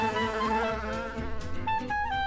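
Comedic bee swarm effect, a loud, steady buzzing drone with wavering pitch that fills the clip, close and continuous with no voices.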